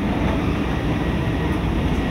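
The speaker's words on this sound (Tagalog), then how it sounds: "bullet train." A Shinkansen bullet train roars past at close range, a loud, steady rushing rumble that holds unbroken for about two seconds.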